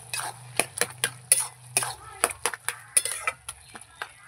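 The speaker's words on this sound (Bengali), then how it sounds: "একটু খুন্তি দিয়ে নেড়ে চেড়ে দেব" A spatula scrapes and taps against a pot while stirring bottle gourd cooked with hilsa fish head, sharp irregular metallic clinks over a low bubbling simmer, close by and alone.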